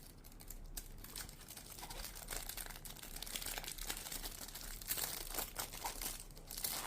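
Packaging for a Mont Blanc Individuel men's perfume is unboxed: close, faint crinkling, tearing and tapping of cardboard and wrapping, with no talking.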